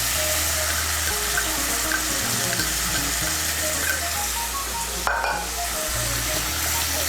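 Tomato paste sizzles and fries steadily in hot oil for a Bengali cauliflower dalna, with occasional stirring scrapes and a brief sharper clatter near the end, close and continuous with no talking.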